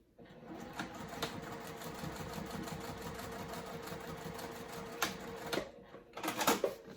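A sewing machine bastes along a crossbody bag in a steady, close mechanical whir, with a few sharp clicks and a louder burst near the end.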